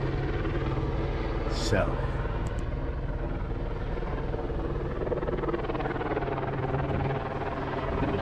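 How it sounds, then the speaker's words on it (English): Helicopters thrum steadily overhead, a constant rotor drone filling the air above a high-security perimeter, with a brief voice heard faintly beneath the noise. "there's gonna be helicopters overhead for the next like 7 hours"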